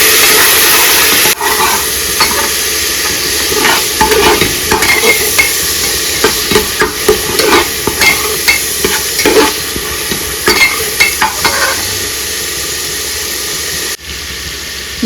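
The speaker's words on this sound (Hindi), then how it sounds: "मसाला हमारा अच्छे से भुन चुका है।" Masala roasting in a pan for biryani, with yogurt just added, is stirred steadily throughout, giving a loud continuous sizzle and hiss broken by repeated scraping strokes of the spoon, with no voices.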